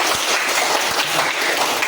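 Classroom applause for a group's answer, a dense steady patter of many hands clapping together, loud and close, filling the short moment without talk.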